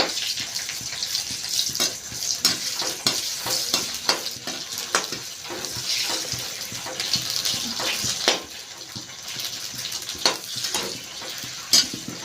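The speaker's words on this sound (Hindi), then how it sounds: "मैं कढ़ाई में तेल डाल दी हूँ और तेल मेरा हीट हो चुका है। तो मैं डाल देती हूँ छानने के लिए फुल्की को" Phulki, the puffed shells for pani puri, fry in hot oil in a kadhai with a loud bubbling sizzle, broken by repeated scraping and clanking of a stirring spoon against the pan, close up and without talk.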